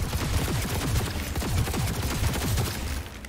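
Continuous gunfire in the video game Cyberpunk 2077, a dense rapid volley of loud close shots with overlapping impacts.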